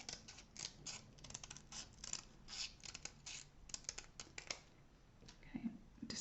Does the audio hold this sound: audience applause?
no